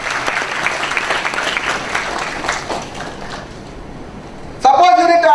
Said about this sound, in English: Give yourself a round of applause for being here in this century.